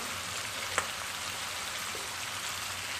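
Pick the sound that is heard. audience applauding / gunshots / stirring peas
stirring peas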